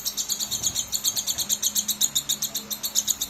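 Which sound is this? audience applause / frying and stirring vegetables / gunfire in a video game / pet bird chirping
pet bird chirping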